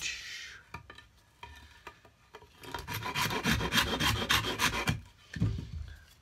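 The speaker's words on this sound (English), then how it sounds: "The Shinto rasp with a coarse side and a fine side. And I begin off with the coarse side." A Shinto rasp, coarse side, files wood while shaping a Fender-style cigar box guitar; scattered scrapes give way to a dense run of rapid rhythmic rasping strokes, then a few final strokes, close and fairly quiet.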